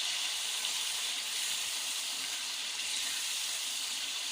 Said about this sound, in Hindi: तो फिर इसमें हम लहसुन अदरक का पेस्ट डालेंगे।